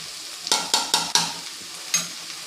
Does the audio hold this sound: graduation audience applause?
no